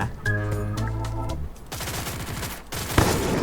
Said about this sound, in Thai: และเสียงใครมายิงอะไร